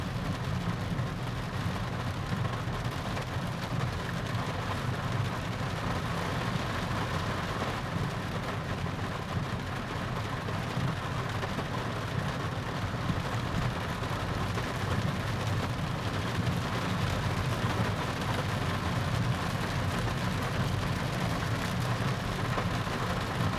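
Heavy rain drums steadily on the body of a Proton S70 car, heard from inside the cabin as a constant dense patter over a low road rumble, with no breaks for the whole stretch.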